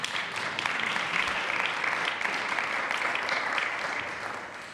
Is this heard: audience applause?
yes